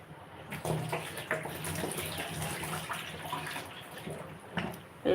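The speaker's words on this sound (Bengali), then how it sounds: "আমি চালটা ধুয়ে নিচ্ছি" Rice being rinsed in water in a home kitchen, with steady sloshing and splashing close by and a few sharper splashes and clinks near the end; no talk.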